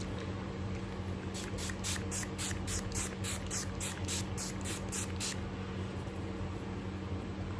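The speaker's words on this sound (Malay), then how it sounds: "Okay, so supaya kita dah pakai ni semua, mari akan spray. Kita akan spray sekali." A makeup setting spray gives a rapid run of short, evenly spaced spritzes, about a dozen bursts of hiss. They sound close and fairly loud over a low steady background hum, and nobody speaks.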